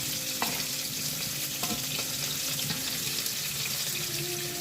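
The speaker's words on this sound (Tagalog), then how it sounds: "Halo-haloy lang natin ang palaya." Bitter gourd frying and being stirred in a pan, a steady hiss of sizzling with occasional soft scrapes and clicks of the utensil, close and even throughout, without talk.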